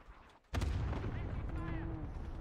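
Airstrike explosions in Call of Duty, a sudden loud boom after a quiet moment, followed by a long rumbling roar with rattling debris and faint tonal whines trailing off.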